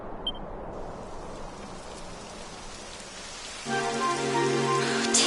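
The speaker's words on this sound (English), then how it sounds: "It would have to go and start raining, wouldn't it?" Steady rain falls in the video game Dragon Quest XI, a continuous soft hiss that swells louder partway through as a sustained musical tone enters, with no talking.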